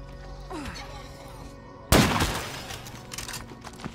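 Sudden loud gunshot burst in the zombie survival game State of Decay 2, a sharp crack followed by a decaying rumble and a few scattered smaller shots, with quiet game ambience before it.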